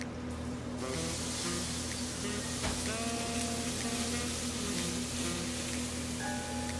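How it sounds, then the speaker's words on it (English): Garlic browning in a hot pan on a restaurant cook line, a steady close, loud sizzle with faint clanks and spatter, the constant frying hiss holding throughout. "Now, he's going to brown the garlic."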